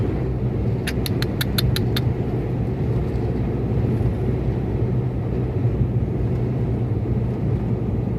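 Steady low road rumble and engine drone fill the cabin of a car crawling through long traffic on a trip from Kulata to Sofia, with a brief burst of rapid metallic ticking early on and no voices.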